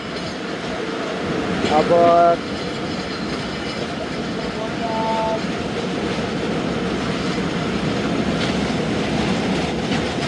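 130Dn Thal Express train rolling steadily along the rails, a continuous rumble with clattering wheels and a few brief squeals near the start, heard from on board with a short word spoken.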